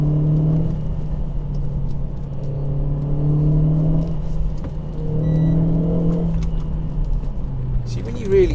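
A Renault Clio RS 200 Turbo hot hatchback engine drones steadily and rises through revs in a couple of pulls while driven hard, with people talking over the constant cabin rumble.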